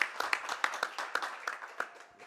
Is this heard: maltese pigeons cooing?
no